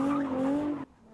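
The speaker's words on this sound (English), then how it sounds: "Cars doing donuts." Street racing cars doing donuts in Austin, Texas give off a loud, sustained tire squeal with a slightly rising pitch that cuts off abruptly, leaving only faint background noise.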